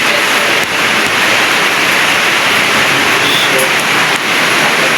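Dense, steady broadband roar of heavy rain pouring down, loud and continuous with no breaks.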